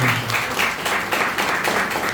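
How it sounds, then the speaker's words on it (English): Applause from the audience at a scholars' summit closing a panel discussion, a steady dense wash of clapping that holds at even loudness for about two seconds with no voices on top. "A big round of applause for everyone here."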